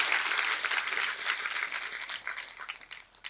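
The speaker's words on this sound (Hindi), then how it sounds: "आइए जोरदार तालियां बजा के स्वामी जी का स्वागत करें।" Audience clapping to welcome a guest at an annual church feast day celebration at a grotto, a moderate crowd applauding steadily before the claps grow sparse and trail off.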